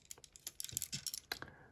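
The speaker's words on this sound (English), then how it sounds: "click the wheel wells into place like so" Plastic wheel wells on a Transformers Dark of the Moon Voyager Class Optimus Prime figure snap into place, a quick cluster of quiet, close clicks and taps.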